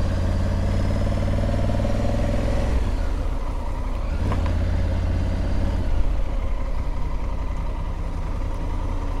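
A Honda Africa Twin motorcycle engine rumbles steadily at idle close by, a low continuous drone with slight fluctuations and no talking.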